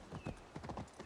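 Horse hooves clip-clop along a road in the video game Assassin's Creed Valhalla, a quick, steady trotting rhythm heard quietly in the distance with no voices.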